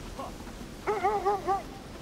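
A dog in the video game Kona II: Brume gives a brief run of three or four high, whining yelps, moderately loud over a low, steady ambient background.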